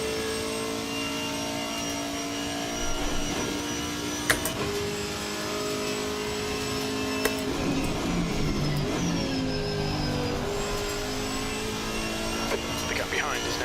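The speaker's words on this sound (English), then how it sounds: "Listen to that American muscle, baby." American muscle car engine droning and revving with rising and falling pitch, steady and fairly close inside the car, under someone talking over radio chatter.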